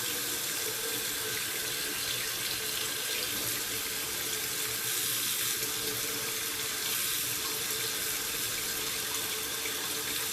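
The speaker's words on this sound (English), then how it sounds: "So I'm going to turn on my water." Water runs steadily from a household tap, turned up high while waiting for it to warm, a constant close rushing hiss with no talking.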